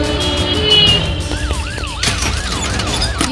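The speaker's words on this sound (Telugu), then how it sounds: "ఇప్పుడే అంబులెన్స్ ఘటనా స్థలానికి చేరుకుంది." An ambulance siren wails in repeated rising and falling sweeps, loud and close, arriving amid a tense street scene after a communal clash, with other layered noise and tones around it.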